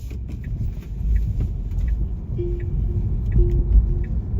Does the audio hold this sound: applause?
no